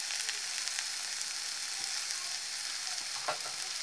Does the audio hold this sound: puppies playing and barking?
no